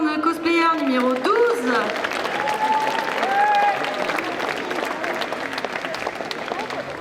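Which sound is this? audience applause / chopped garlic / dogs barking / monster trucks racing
audience applause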